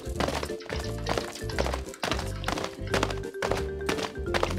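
Horse hooves in a Bibi und Tina game clip-clop in a brisk, even rhythm of repeated hits, close and fairly loud, with a sustained whinny-like tone sounding partway through.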